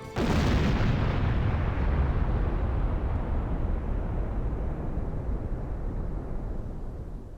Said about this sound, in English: You get an animation of Caldoria from the first game exploding.